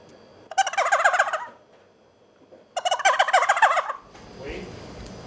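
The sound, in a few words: wild turkey gobble imitated on a game call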